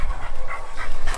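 Hunting dogs on a bear hunt pant loudly and close by, with faint whimpering mixed into the rapid, continuous breathing.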